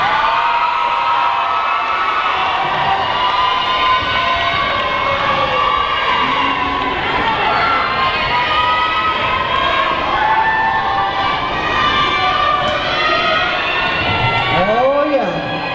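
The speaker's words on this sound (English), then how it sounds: "Crowd goes crazy over these three guys." A crowd at a Tahitian dance competition cheers and whoops loudly throughout, with shrill whistles and shouts rising above the steady roar and no break in the noise.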